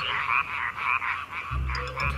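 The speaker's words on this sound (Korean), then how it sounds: "황소개구리다, 이거." Several low, resonant bullfrog croaks at night in Thailand, repeating in rhythmic pulses over a steady buzzing chorus of insects or other frogs; a deeper, louder croak enters near the end.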